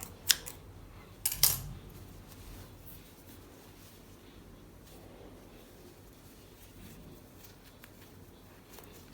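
Scissors snip through crochet yarn in two quick, close cuts near the start, followed by quiet handling noise.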